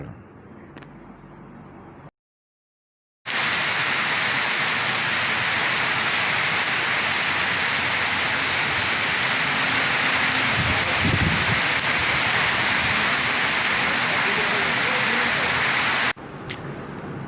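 Dense, heavy rain in Punjab pours in a constant roaring hiss, loud and steady after a brief quiet gap, with no one talking over it.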